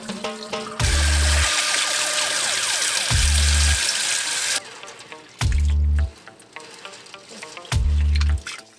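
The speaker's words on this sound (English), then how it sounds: "Now we have our beautiful beans. Let's wash them." Dry beans rinsed under a running kitchen tap, with water splashing and trickling for several seconds, interrupted by short low-pitched thuds repeating at roughly two-second intervals.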